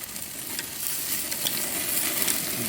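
Tri-tip sizzles steadily on a Weber kettle grill at a Thanksgiving cookout, a close, continuous crackling hiss with small pops throughout and no voices.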